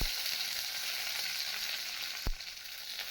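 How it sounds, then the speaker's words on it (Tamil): Steady, dense crackle and sizzle of mustard seeds spluttering in hot oil in a pan, close by, with one sharp pop near the end. "ஒரு கடாயில் எண்ணெய் ஊற்றி எண்ணெய் நல்லா காஞ்சதும் கடுகு நல்லா பொரியணும்."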